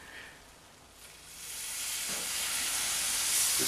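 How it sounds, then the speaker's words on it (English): Hot syrup hisses and sizzles as it is poured over freshly baked baklava straight from the oven, a broad steamy hiss that swells after a quiet start and holds steady and loud to the end. "And then right away your sizzle syrup"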